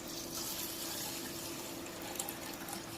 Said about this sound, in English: And then I'm going to add my 1 cup of water.